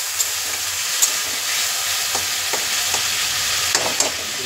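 Well-fried masala in a pan sizzles steadily after a splash of water, with occasional soft stirring knocks against the metal, close and fairly loud, without speech.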